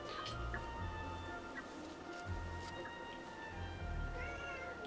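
A house cat meows softly a few times over a constant low background hum. The cries are faint and fairly close.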